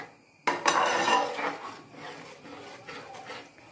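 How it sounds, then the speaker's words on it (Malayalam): A spoon stirs semiya payasam, a vermicelli and milk pudding, in a pot over a medium flame. It opens with a sharp clink against the metal, then gives soft scraping and swishing strokes up close, with no speech. "എന്നിട്ട് മീഡിയം ഫ്ലെയിമിലിട്ട് ഒന്നുകൂടി നമുക്കിതിനെ ഒന്ന് ഇളക്കി യോജിപ്പിക്കാം."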